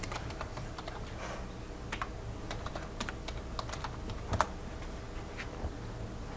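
Fingers tap quickly and irregularly on a computer keyboard, entering a web ID and password, with close, light key clicks and one slightly louder keystroke near the end.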